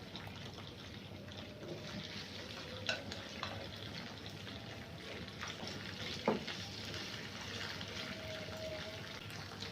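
Cut okra frying in oil in a pan, a steady faint sizzle throughout with occasional small clinks and stirring sounds, no talking.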